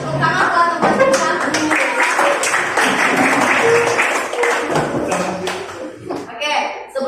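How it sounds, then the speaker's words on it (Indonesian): Classmates in a school classroom clap for their peers after a group activity, a scattered patter of hand claps running steadily throughout with children's voices talking over it. "tepuk tangan buat teman-teman"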